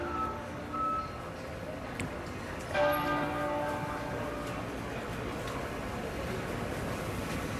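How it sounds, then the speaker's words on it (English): Westminster Abbey's church bells in London toll with a couple of ringing strikes that linger and fade, heard at a distance over a steady outdoor background hum. "we could hear those bells tolling at Westminster Abbey in honor of the Queen."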